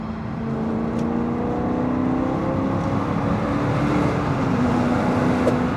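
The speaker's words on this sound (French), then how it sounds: "J'accélère, là. Et là, j'ouvre les valves." A V8 4.7L engine revs hard with its exhaust valves open, giving a steady, loud, throaty drone with a rising tone that holds throughout, close and with no talk over it.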